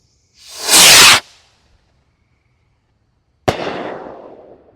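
Blast Wave Gemini firework rocket: a loud rushing whoosh of the launch lasting under a second, then silence before a sharp crack of the burst followed by a long crackling, fading decay.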